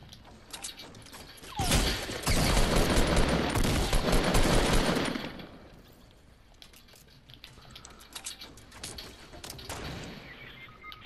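Video game shootout with a dense, loud burst of rapid gunfire that gives way to scattered quieter shots and clicking mechanical sounds.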